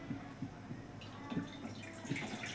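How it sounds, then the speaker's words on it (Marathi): Water is poured into a cooking pot on a gas stove for making nylon sabudana, heard as soft splashing and trickling with a few light drip-like accents, fairly close and quiet. "त्याच्यामध्ये पाणी टाकायचं."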